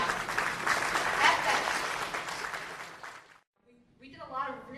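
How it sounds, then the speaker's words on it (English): Members of a housing network at a semi-annual membership meeting clap loudly for about three seconds. The applause stops abruptly, and then a voice starts speaking. "give yourselves a big round of applause"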